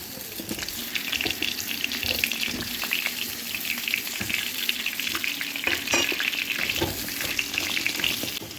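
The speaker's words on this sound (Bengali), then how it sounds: "এই তেলে এবারে আলুগুলো ভেজে নেব।" Potato pieces frying in hot oil crackle and sizzle steadily, with scattered sharper pops and occasional stirring clatter, close and fairly loud.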